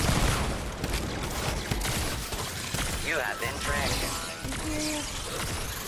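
A helium shotgun in Fortnite fires at shields, with sharp blasts and mechanical clatter mixed under a player's spoken commentary.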